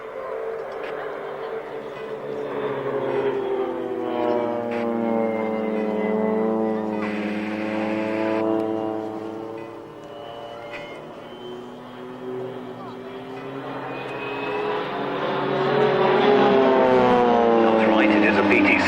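A Pilatus PC-7 trainer with a Pratt & Whitney PT6A turboprop engine performs at an airshow, its whining engine rising and falling as it passes, heard under continuous commentary over a public address.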